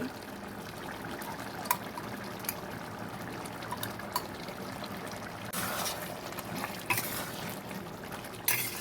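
Ghee going into a pumpkin and potato curry in a pan, giving a soft continuous sizzle with light stirring and liquid movement, moderately loud throughout with a brighter burst of frying near the end.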